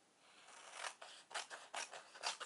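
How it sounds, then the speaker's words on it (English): Scissors snipping through double-sided sticker paper during a craft project, a run of close, crisp rasping cuts that grow louder and more rhythmic after a quiet start, with no talking. "So we're going to cut it roughly first, and then we can make a neater cut later."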